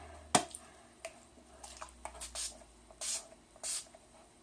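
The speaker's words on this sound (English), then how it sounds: "I'm going to start today off using my Mary Kay makeup finishing spray." A few short sprays of Mary Kay makeup finishing spray hiss out in separate bursts between faint tapping and handling noises, close and quiet.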